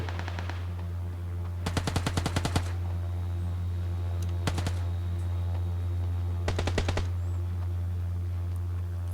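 Two bursts of rapid automatic gunfire in the mobile battle royale PUBG New State, each a quick string of close, sharp shots, with a single shot between them and a steady low engine-like drone throughout.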